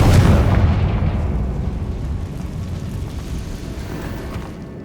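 A Confringo blasting spell detonates in Hogwarts Legacy, a loud, deep boom at the start that rolls into a long rumbling decay over several seconds, with no voices.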